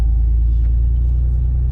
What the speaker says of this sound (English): I'm driving through a field.